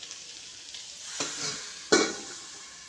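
Potato bhujiya cooking in a pan on the stove gives a soft steady sizzle, broken by two sharp scraping knocks of a spoon against the pan.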